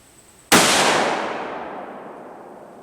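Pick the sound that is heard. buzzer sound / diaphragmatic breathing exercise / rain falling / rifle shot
rifle shot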